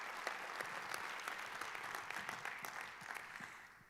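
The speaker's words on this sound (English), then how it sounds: "could we just please give a round of applause to the Zero Project team?" Steady audience applause fills a conference opening ceremony hall, dense continuous clapping at an even level throughout with no talk over it.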